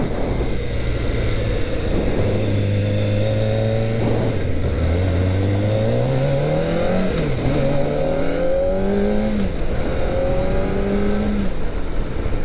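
A Kawasaki Ninja ZX-4RR motorcycle engine revs up repeatedly, its pitch sweeping upward through several climbs with brief dips between, loud and continuous with a steady background roar.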